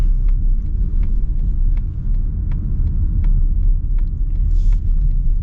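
2025 Mazda CX-30 pulling away on the road in Orem, Utah, a loud, steady low rumble of engine and road noise building throughout, heard from inside with no talk.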